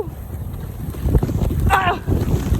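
Strong wind whips across a river during a storm, roaring and buffeting the microphone in loud, gusty waves, with a brief voice cutting through near the middle.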